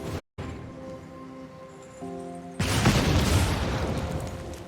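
The Play with Fire burn spell effect in the Magic: The Gathering Arena card game, a tonal chime followed by a loud, sustained fiery whoosh and rumble that fills the rest of the clip.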